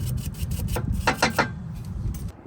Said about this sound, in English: take your steel brush to it